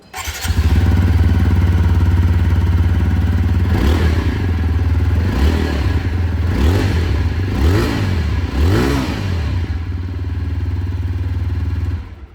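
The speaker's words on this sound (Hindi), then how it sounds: "बाइक की जो एग्जॉस्ट साउंड है वो भी मैं आप लोगों को सुना देता हूँ" A TVS Apache RTR 160 4V motorcycle idles with a deep, steady exhaust rumble, then blips the throttle in four or five sharp revs that rise and fall before settling back to idle.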